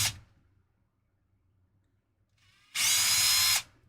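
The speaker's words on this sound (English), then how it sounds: "we pull the screws." Power drill pulling screws out of a gearbox, a short high whirring burst of just under a second following a near-silent pause, loud and close, with no talking.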